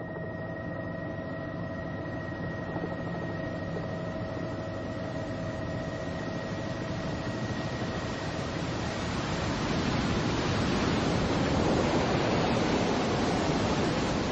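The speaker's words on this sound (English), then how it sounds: "Plunging through the smoking water of the Tisisat Falls, it takes a month to cross Ethiopia and Sudan." Tisisat Falls on the Nile in Ethiopia roars as a steady broadband rush of plunging water, with a faint tonal hum early on and the torrent swelling louder in the second half.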